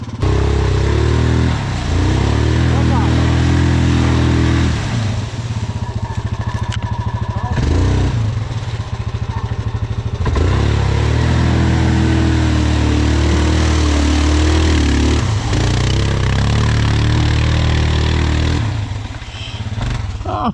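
A Yamaha Grizzly 700 ATV engine revs hard and loud up close, rising and falling in repeated bursts with a rough, clattering tone throughout.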